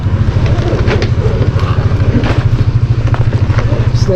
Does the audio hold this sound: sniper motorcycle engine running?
yes